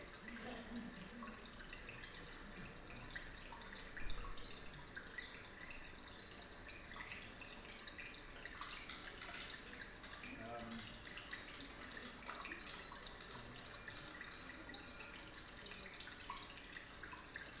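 Steady trickling water like a fountain runs throughout, with bird chirps scattered over it and a brief thump partway through.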